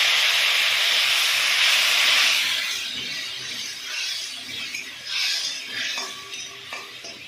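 Fried spices hiss and sizzle loudly in a pan as water hits them, the bright steam burst easing after a couple of seconds into softer bubbling with light utensil stirring and clinks.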